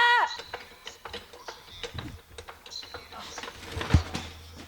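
A ratchet clicks in short runs while loosening the bottom banjo bolt from underneath a turbocharged all-wheel-drive Toyota, heard amid workshop clatter and people talking.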